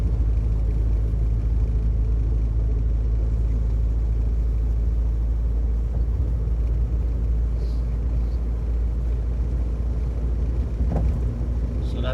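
A Morris Minor climbing a hill in fourth gear at about 30, its engine a steady, heavy, low rumble mixed with road noise inside the car, with little change throughout.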